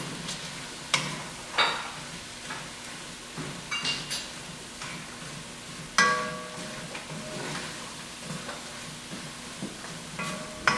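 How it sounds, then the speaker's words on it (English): Handfuls of spinach leaves fry and wilt in a hot pan, a steady close sizzle broken by repeated scraping stirs and occasional sharper clatters of the utensil, with no talking. "now we're going to go ahead and start adding our spinach in, kind of a handful at a time"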